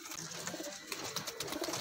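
Golden dab teddy cross pigeons coo softly nearby, with repeated low throaty calls and faint flutters, no voices over them.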